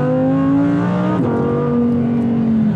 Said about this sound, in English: You just heard that upshifts, downshifts very quickly.